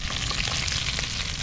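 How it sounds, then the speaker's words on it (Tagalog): Tilapia fish frying in a pan, a dense, steady sizzle and crackle of hot oil, close and continuous throughout. "Kaya prito muna tayo."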